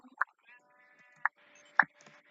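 Three short, separate sheep bleats in a video game over a quiet background, spaced about a second apart.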